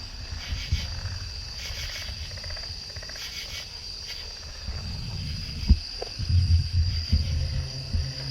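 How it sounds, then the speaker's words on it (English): Frogs call from nearby trees at night, a dense chorus of trilling and croaking layered over a constant high insect drone, with louder low croaks pulsing near the end and no speech. "What do you think that is? Frogs?"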